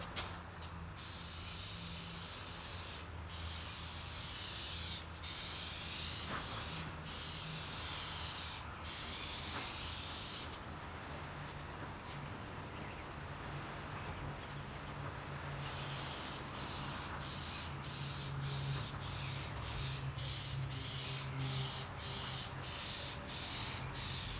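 Spray gun laying a first coat of clear coat onto a car, a steady loud hiss running almost continuously with brief breaks between passes, close up and alone.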